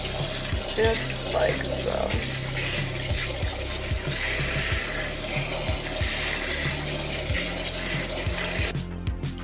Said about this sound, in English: Just give them a nice rinse and a toss.